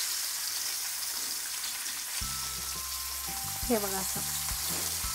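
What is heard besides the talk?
dry salted surmai fish roasting on a low gas flame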